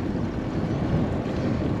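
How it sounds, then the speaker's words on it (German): Wind blows steadily during a spring bicycle tour along a river cycle path among blossoming fruit trees, a constant close buffeting rush across the microphone with no talk. "Aber der Wind bläst noch."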